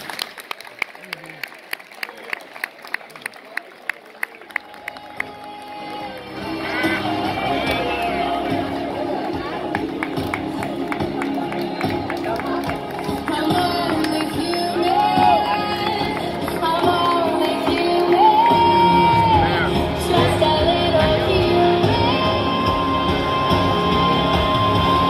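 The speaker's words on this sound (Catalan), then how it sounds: "Un fort aplaudiment per a Rogelio Taberner Sandro." At a festival presentation in Benigembla, a crowd claps sharply at first and then swells into sustained loud applause with cheering and chatter that lasts for around twenty seconds.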